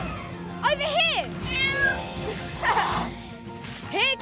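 Cartoon cat meowing in a Peter Rabbit garden chase scene, several drawn-out meows in quick succession with other cartoon voices and sounds mixed in.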